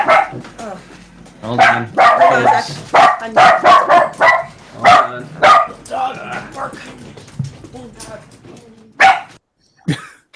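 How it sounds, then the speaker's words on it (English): A young dog barks at the top of the clip, a few sharp calls set among steady nearby talk from several people indoors. "We have a nice young dog, and he barks at anything that isn't in the room."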